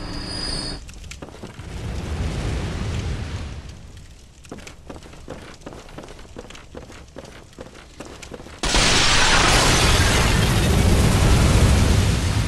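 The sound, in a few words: volatile canisters exploding in Bloodborne video game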